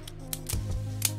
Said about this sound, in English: Now let's see the clicking mechanism for it.